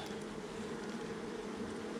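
Honey bees, many of them nurse bees shaken out during a walk-away split of a strong hive, make a dense, continuous buzzing hum that stays steady and close throughout, with no talking.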